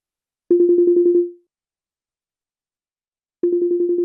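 A telephone ring-back tone on an outgoing call: two bursts of rapid, pulsing electronic trill about three seconds apart, separated by silence, clear and fairly loud with no voices.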